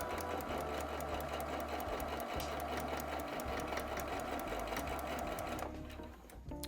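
A sewing machine stitches denim jeans in a steady, loud, continuous whir with rapid needle chatter that runs without pause, then slows and fades near the end.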